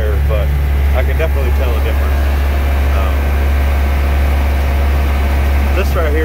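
A John Deere 7060 tractor pulls an Allis Chalmers 5-18 moldboard plow in fourth gear through a spring field, its diesel engine drone steady and loud throughout with cab noise over it.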